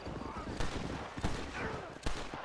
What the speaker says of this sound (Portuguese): tá tendo um monte de tiro aqui, mano